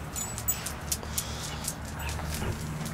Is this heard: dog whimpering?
yes